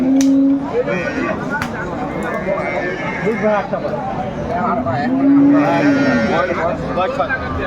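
Cows and calves mooing at a livestock market in Dinajpur, two drawn-out low moos close by amid crowd chatter and people talking.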